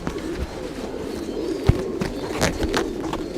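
Long-distance homing pigeons, racing birds in Saudi Arabia, coo softly in a loft, with low throaty calls and light rustling under a steady background hum.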